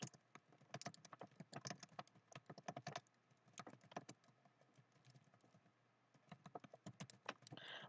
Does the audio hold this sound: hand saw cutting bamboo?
no